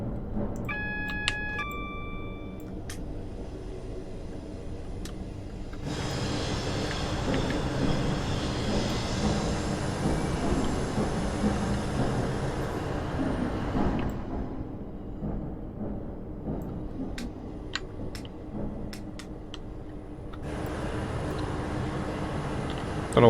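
A 3-car Class 159 coupled to a 2-car Class 172 at Waterloo in Train Simulator 2020, a steady diesel rumble and rolling drone that swells loud mid-way, drops off, then resumes, with a few brief beeps at the start.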